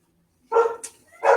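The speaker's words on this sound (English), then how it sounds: "sorry, barking dogs" Two short barks from a dog, close by, with a brief pause between them against otherwise quiet background.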